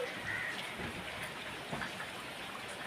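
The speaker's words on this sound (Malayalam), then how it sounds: "ഉച്ച കഴിഞ്ഞിട്ടുള്ള തുലാമഴയാണ്." Heavy afternoon monsoon rain falling near a house beside a rubber plantation, a steady, dense hiss of drops on surfaces that continues evenly throughout, fairly soft in level, with no voices.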